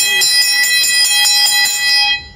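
A bell rings rapidly at a velodrome during a track cycling session, with about ten loud, bright clangs in quick succession before it cuts off.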